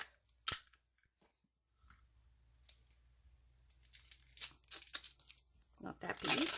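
A piece of tape is torn off in sharp short rips, separated by quiet gaps, with rustling and crinkling handling noise building toward the end.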